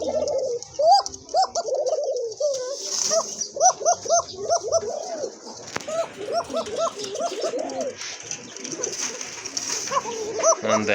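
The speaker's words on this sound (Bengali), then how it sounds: "এটা হচ্ছে আপনার অ্যারাবিয়ান কোকা কবুতর, খুব ভালো ডাকে, একদম চিকন গলার কবুতর" A pair of Arabian Coca pigeons, feather-footed and thin-voiced, coo in repeated rhythmic bursts close by, with a dog barking intermittently and faint talk in the background.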